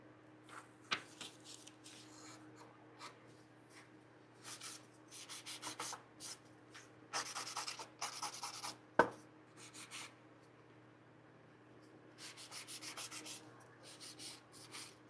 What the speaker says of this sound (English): All right, filing here.